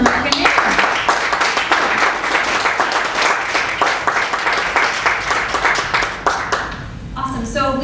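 Film festival audience in a Toronto screening room applauding, a dense, sustained burst of clapping that fills the room and then tapers off, with a voice starting to speak as the applause fades.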